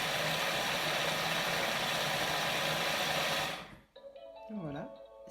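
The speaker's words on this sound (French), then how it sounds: "juste tourner le sélecteur de vitesse de lame sur 5 et ça va mixer" A Thermomix TM5 blending pancake batter at speed 5 gives a loud, steady whirring drone for several seconds, then cuts off abruptly and leaves quiet beeps and faint handling noise.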